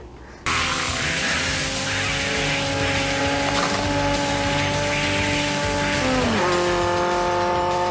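Engine drone from a Nightmare on Elm Street 5 film scene where Freddy becomes a motorcycle, a steady loud revving roar that holds for several seconds, then dips and climbs in pitch near the end, with no talk.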